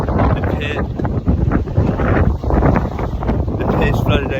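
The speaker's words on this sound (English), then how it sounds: "The wind has picked up" Strong wind roars and buffets the microphone on a flooded pier at night, loud and constant throughout with no break.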